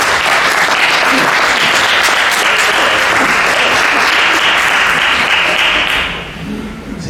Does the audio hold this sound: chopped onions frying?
no